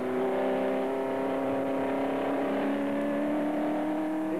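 A Ford GT40 race car at Le Mans in 1968, heard onboard, accelerates hard along a short straight. A loud, steady engine note climbs smoothly in pitch with no voices over it.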